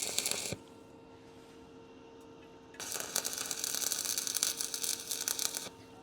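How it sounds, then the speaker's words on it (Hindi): A welding machine set around 150 amps arc welds a steel pipe. A brief crackle is followed by a quiet hum, then about three seconds of dense, sputtering arc crackle that stops abruptly. "अब मैं आपको नॉर्मल वेल्डिंग करके दिखाता हूँ"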